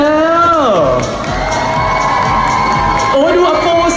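Fans at a stage launch event for new Halls candy flavours scream and cheer loudly, high shrill voices that rise, dip and surge again in a sustained crowd roar.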